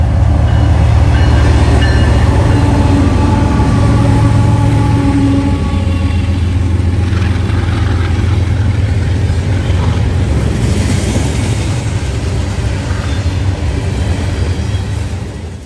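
A loud eastbound Norfolk Southern freight train rumbles past close by, a heavy continuous roar with rail clatter that stays steady and slowly eases toward the end.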